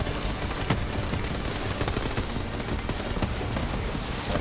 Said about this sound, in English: me and my clone just shooting those explosive corrosion weapons